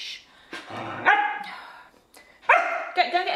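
A puppy yaps and barks in short bursts, close and loud, a few sharp yips separated by brief pauses, with a person speaking softly nearby.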